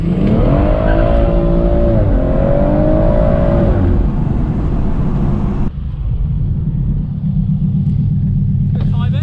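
BMW M140i engine revving hard during a night burnout on private land, a loud continuous roar with rising and falling pitch for about four seconds before dropping to a lower steady rumble.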